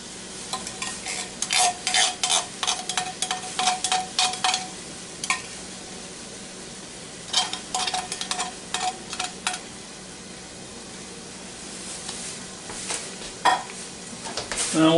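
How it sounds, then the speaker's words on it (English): Beef and onion with canned beef gravy cook in a Ninja Foodi while a spoon scrapes and taps the pot in repeated bursts of stirring over a faint sizzle, close and alone. "So now we'll add this beef gravy here."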